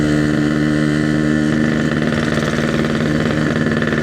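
Yamaha RX King two-stroke motorcycle engine idling close by, a steady loud rumble with an even pulsing beat that holds constant throughout, no speech over it.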